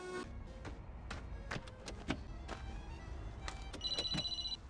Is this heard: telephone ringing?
yes